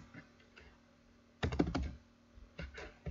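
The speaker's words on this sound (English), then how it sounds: "I'm going to just type them in pinyin for now." Keys on a computer keyboard are tapped in short bursts, with a quick flurry of clicks in the middle and a few lighter taps toward the end, as Chinese characters are entered in pinyin, close and fairly quiet with no talk.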